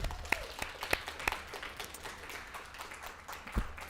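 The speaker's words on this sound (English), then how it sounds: "let's do a round of applause to Merit" Audience gives a modest round of applause at a kick-off event, with sparse, distinct claps and a few sharper hand slaps, fairly quiet and thinning toward the end.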